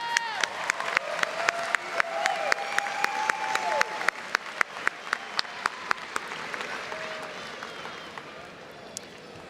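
Graduation ceremony audience applauds ODU graduates in a large hall, a broad wash of clapping with sharp, individually distinct claps standing out near the microphone, gradually thinning as it goes on.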